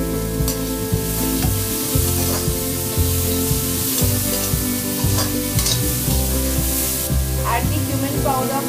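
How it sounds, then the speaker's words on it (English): Tomatoes tipped into a hot pan sizzle and crackle loudly, with repeated scraping and stirring knocks throughout. "So now I'll add the tomatoes."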